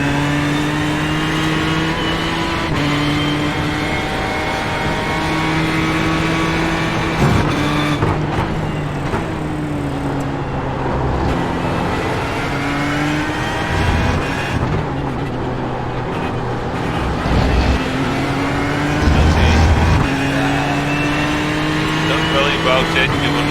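Race cars including a Porsche lap Sebring in the iRacing video game during a 12-hour race, with loud sustained engine drones rising and falling through gear changes and passes, while a voice talks over them.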